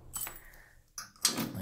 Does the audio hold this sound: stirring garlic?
no